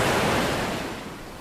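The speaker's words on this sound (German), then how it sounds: "Von der lauten Brandung." Loud ocean surf in the video game Minecraft, a broad washing roar that is strong at first and slowly fades over a moment, with no talk.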